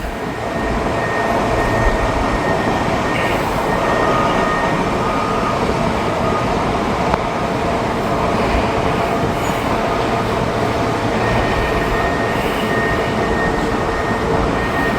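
A CSX freight train rolls past near active construction in Vandalia, Ohio, giving a steady, loud rumble of railcars and wheels that holds for the whole stretch, with no talking.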